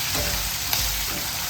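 Prawns sizzling steadily in a hot pan while being stirred, a continuous frying hiss with soft scraping of the spoon, close and even throughout.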